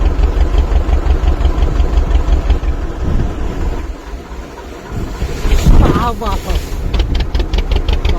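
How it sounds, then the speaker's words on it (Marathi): A sea wave slams into a small fishing boat on the first day of fishing season, a loud rushing crash over steady wind buffeting and engine rumble, with voices talking nearby. "कसली आपटली मित्रांनो होडी"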